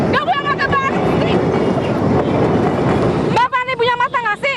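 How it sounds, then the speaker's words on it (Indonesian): A train clatters past a closed railway crossing with a loud, continuous rushing rumble. A horn-like tone sounds at the start and end. People talk over the noise. "Sudah tahu pintu perlintasan kereta api itu ditutup."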